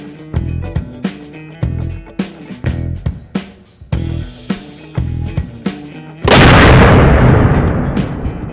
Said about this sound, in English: we didn't get us a nice fireball like I wanted, but we got us a really nice kaboom